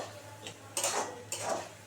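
Poppy seed paste being sautéed in a pan, with a few metal utensil scrapes and clinks against the cookware, two louder stirring strokes standing out over a low background hum.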